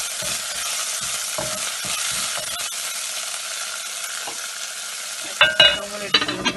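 Chopped green chilies and ginger frying in hot oil with cinnamon and cumin, a steady bright sizzle with occasional stirring clinks, growing sharper and louder with spattering near the end.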